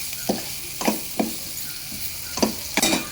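Curry leaves and onion fry in a pan for a bitter gourd palya, a gentle sizzle broken by about half a dozen quick spatula scrapes.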